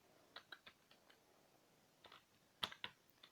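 Typing on a computer keyboard, a few quiet, sparse keystroke clicks in two short clusters, faint and close in a quiet room.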